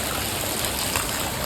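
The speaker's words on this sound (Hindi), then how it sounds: "ये देखो तभी इतना ज़्यादा पानी है, फ्लोइंग लाइक एनीथिंग।" Heavy rushing water surging along during monsoon rain in Goa, a loud, continuous broadband roar close by with no pauses.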